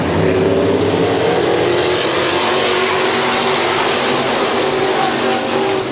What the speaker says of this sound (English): Down the back, Meyer closing the door on the 53 of Dobbins